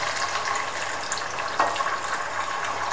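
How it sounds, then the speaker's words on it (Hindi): Water pours steadily into a cooking pot of rice and potatoes, a continuous close splashing stream lasting a few seconds with no voices. "थोड़ा सा पानी शामिल करेंगे"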